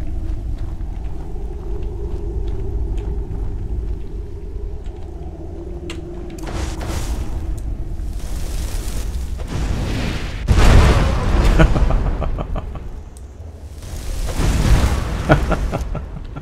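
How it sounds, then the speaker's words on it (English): Explosions in the modded video game Skyrim Special Edition: deep booming blasts, two heavy bursts standing out over a low rumbling game soundscape, with some speech mixed in. "Explosions."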